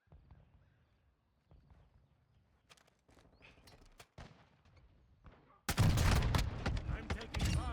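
Rapid gunfire in Modern Warfare 2 erupts loud and dense near the end after quieter footsteps and game chatter, with voices speaking before the burst.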